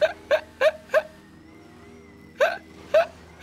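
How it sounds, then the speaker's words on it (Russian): A person hiccups repeatedly during a GTA 5 Online session, six sharp, loud hiccups, four in quick succession and then two more after a pause, with no talk over them. "Икает, икает"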